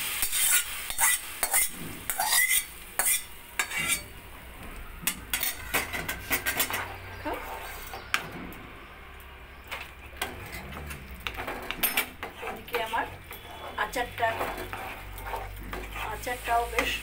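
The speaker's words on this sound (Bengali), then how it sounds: "আমি এবার এই ফোড়নটা তেলটা এর মধ্যে দিয়ে দেবো।" Spoon stirring spiced tempering oil into an olive pickle, with repeated clinks and scrapes against a metal pot amid a faint sizzle, the stirring steady and close throughout.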